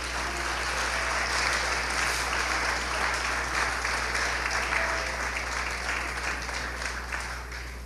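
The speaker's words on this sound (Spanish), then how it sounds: "Aplauda si va a aplaudir." A church congregation applauds together in a dense, sustained wash of clapping that holds steady for several seconds and fades slightly at the end.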